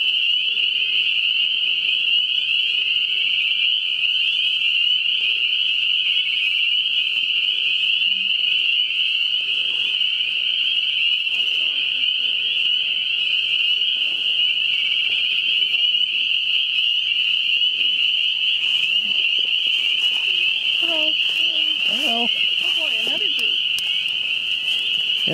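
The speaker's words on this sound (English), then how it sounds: "obviously a bunch of spring peepers and some tree frogs in there." Dense chorus of spring peepers and tree frogs calling at a pond in Washtenaw County, Michigan, a steady high-pitched trill of many frogs held throughout, with faint low voices briefly audible near the end.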